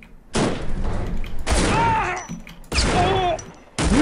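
Video game gunfire in Shadow Ops: Red Mercury while the player bunny hops, coming in several loud bursts separated by short gaps, with whistling and whooshing effects mixed in.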